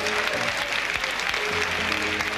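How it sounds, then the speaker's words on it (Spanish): An audience at a dance show applauds, dense continuous clapping close and loud, with a low hum or music underneath throughout. "Un aplauso para Panchito,"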